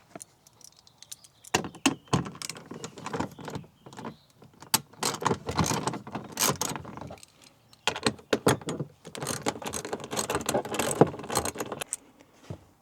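Ratchet wrench clicking as it backs out 10 mm bolts from a Toyota Tacoma body panel, rapid bursts of ratcheting and metal handling in close, loud stretches separated by brief pauses, no talking.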